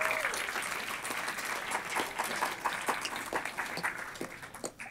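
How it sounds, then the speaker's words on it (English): An audience at a closing-remarks event gives sustained applause, many hands clapping at a steady moderate level, thinning out toward the end. "please give them a round of applause"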